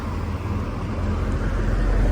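A bus passes on a road in Bonneval, France, its low engine rumble and tyre roar building steadily and growing louder over a couple of seconds, with no talking.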